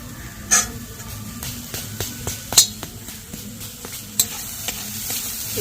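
Grated coconut and jaggery are stirred in a wok, with a soft continuous sizzle under scattered scrapes and taps of a spatula against the metal, close by, with a few sharper clinks.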